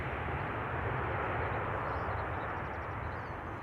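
Thrust reversers on an airliner landing at Amsterdam Schiphol give a steady, loud broadband roar that holds evenly for a few seconds, with no voices.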